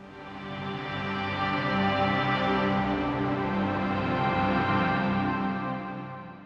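A sampled strings harmonics preset from a virtual instrument library, a soft sustained chord of airy, glassy tones that swells in gently, holds, and fades away over several seconds, with no voices.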